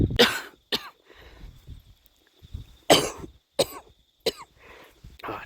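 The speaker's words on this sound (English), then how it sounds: "I've been having a coughing fit the whole time as I'm walking up here." A person coughs repeatedly in harsh, close bursts, several hacking coughs spaced unevenly with quiet breathing and brief pauses between them.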